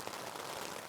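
Steady rain patters on a Hilleberg Enan tent while wild camping in a thunderstorm, a soft, even hiss of drops close overhead throughout.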